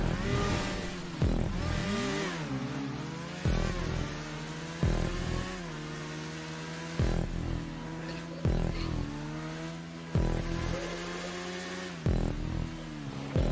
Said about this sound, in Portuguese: Parkourzinho de moto